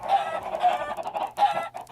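Chickens in a video game cluck in a few short, soft bursts over a low background hum.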